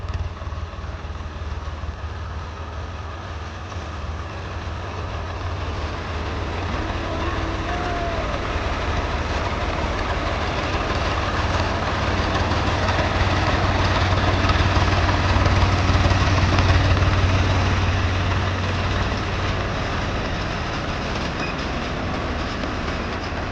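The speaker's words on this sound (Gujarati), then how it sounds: "આપણા ખેતરમાં ટ્રેક્ટર આવી ગયું છે," Tractor engine running with a potato digging machine in a farm field at harvest, a loud, steady mechanical drone with rattling clatter that holds throughout and swells slightly midway, no voices over it.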